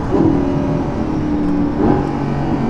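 A Lamborghini Gallardo LP550-2 engine revs loud and close, a steady high-pitched howl that rises and falls twice, with no voices over it.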